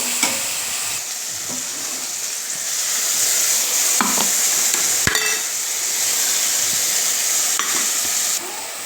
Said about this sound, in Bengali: দিয়ে দেবো টমেটো নুন হলুদ আর মিষ্টি ভালো করে নেড়ে দু মিনিট কষিয়ে নেব